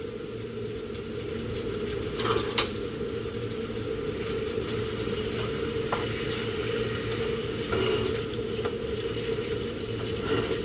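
Chicken being stirred with garlic salt and seasonings, a continuous wet mixing and scraping with a few sharper taps, close and steady beneath a low hum, no voices.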